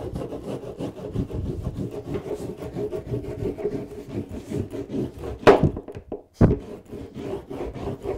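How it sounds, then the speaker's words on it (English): Wax rubbed by hand onto a board in circles gives a steady, close scrubbing rasp, with two sharp knocks near the end. "Just get the wax on there."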